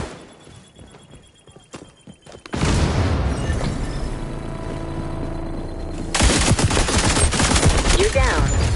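Gunfire breaks out in the shooter XDefiant: after a quieter opening, loud sustained automatic bursts kick in and run continuously, growing denser and harsher toward the end, with close rapid shots layered over more distant fire.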